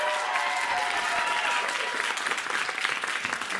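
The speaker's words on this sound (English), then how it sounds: "By applause, who would like to see Miranda slap Jeffrey?" A crowd breaks into loud, sustained clapping, dense at first and gradually thinning toward the end.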